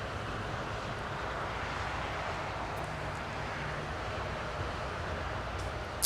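An American Airlines A321neo airliner taxis to the gate at LAX, its engines a steady, even broadband roar that holds at the same level throughout, with no talk over it.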